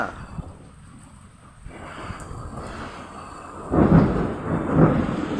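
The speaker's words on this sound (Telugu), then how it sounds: "మెరుపు వచ్చిందంటే చాలా సౌండ్ అయితే డెఫినెట్గా వస్తుంది" Thunder rumbles low and long in the distance, rising into a heavier roll near the end, with a faint wash of rain behind it.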